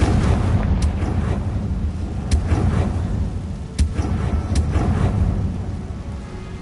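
Confringo blasting spell explosions in Hogwarts Legacy, a dense rumbling roar punctuated by several sharp cracking bursts spaced a second or so apart, no talking.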